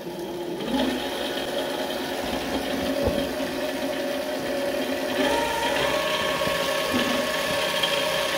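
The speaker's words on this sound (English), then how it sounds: "Spindle is running" A mini lathe spindle running in low gear on a servo motor modification gives a steady mechanical whir with a rhythmic mid-range hum and light rattling, continuous and close throughout.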